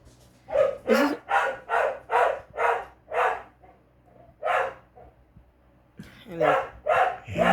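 A dog barks repeatedly in a rapid, steady series of sharp, close barks, with a short pause before another cluster of barks.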